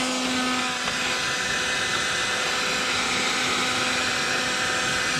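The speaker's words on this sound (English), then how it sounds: "trust your heat gun, and we'll heat this up" A heat gun warming a seal on a Yamaha F300 outboard's trim and tilt unit, a continuous loud fan whir with a steady motor hum that holds unchanged throughout, no talking.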